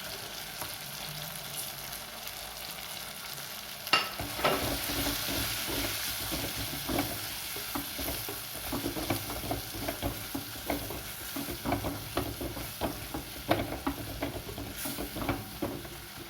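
A bitter gourd mixture fries in oil while being stirred, with a steady sizzle under repeated close scraping and clattering strokes of the spoon, growing busier after the first few seconds, without speech.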